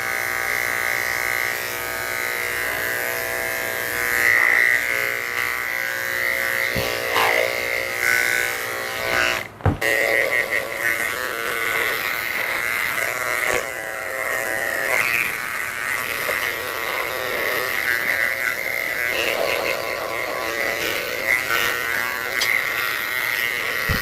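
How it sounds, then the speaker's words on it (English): Electric clippers buzz continuously while shaving down the side of a mixed breed dog that cannot stand, a close, steady hum whose pitch wavers as the blade moves, with a brief knock near the middle. "Pull her skin tight. Shave right down her side here."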